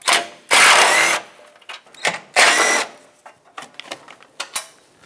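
Power tool spinning off 10 mm fasteners on a Mazda 6 front bumper, two long loud whirring bursts followed by shorter clicks and brief spurts of the tool, close up with no talk.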